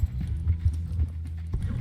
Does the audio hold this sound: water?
no